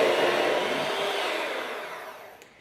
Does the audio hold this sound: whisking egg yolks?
yes